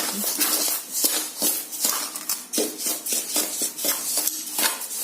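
Rice is roasted in an uruli pan, giving repeated close scraping and rattling strokes of a utensil against the metal pan in an uneven stirring rhythm.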